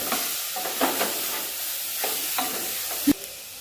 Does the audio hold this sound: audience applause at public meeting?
no